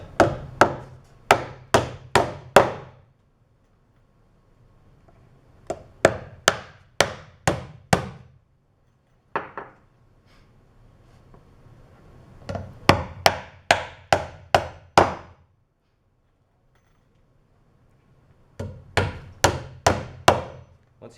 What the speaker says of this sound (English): And again, nail it in place with about 8 nails.